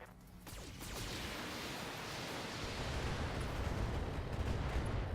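Mech weapons fire in BattleTech: Flashpoint as a broad, roaring barrage that swells quickly and holds as a continuous rushing wash of blasts for several seconds, with no talking.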